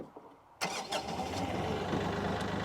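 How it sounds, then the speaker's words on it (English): Kioti CK3510SE HST open-station compact tractor engine cranking and catching, then settling into a steady, close idle rumble with no talk. "So right now we're starting up the tractor."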